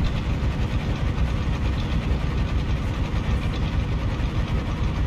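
A Fiat FNM210 truck engine in Euro Truck Simulator 2 runs at a steady, dense idle-like rumble, loud and unbroken throughout with heavy low-end throb and no speech.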